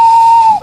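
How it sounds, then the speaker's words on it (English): A railway guard blows his whistle on a hillside line as engines strain to push a train, one loud, steady shrill blast held for just over half a second before cutting off. "The guard blew his whistle"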